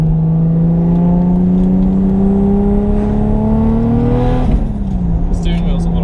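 A turbocharged Toyota JZX100 Chaser pulls hard under acceleration, a loud close engine drone rising steadily in pitch for about four seconds before dropping as the throttle eases, with a rushing whine riding on top.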